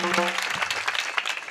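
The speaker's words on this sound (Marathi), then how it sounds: "टाळ्या वाजवा की जरा" An audience at a kirtan gives a short burst of clapping, a brief patter of many hands mixed with a voice at the start.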